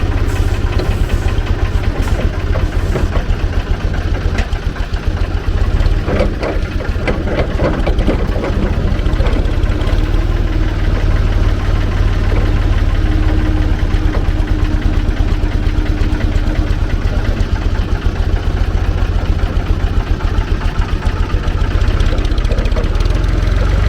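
A Sandersons off-road forklift engine idles loudly and steadily with a deep, continuous diesel rumble and slight knocking vibration, close by for the whole stretch.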